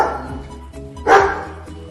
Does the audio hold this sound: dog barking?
yes